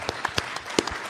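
Sparse clapping from a live show audience: a handful of distinct, uneven hand claps rather than a full ovation, fairly close and without talk.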